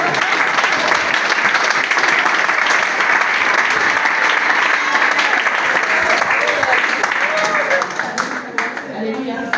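Loud, sustained applause from a church congregation fills the whole stretch, steady and dense, tapering slightly near the end as voices mix in.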